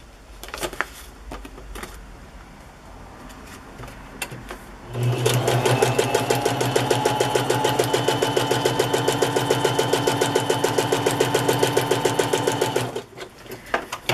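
A sewing machine stitches through a paper page from a vintage math book, starting with a few faint handling noises before a steady, fast mechanical whir runs for about eight seconds and then stops.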